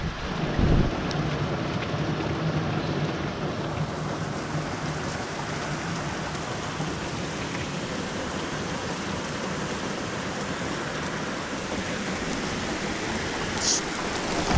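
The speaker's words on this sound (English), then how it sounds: "Storming out here." Rain from a storm drums steadily on a bivy tent outdoors, a dense continuous patter with occasional louder drops, fairly faint overall and without talk.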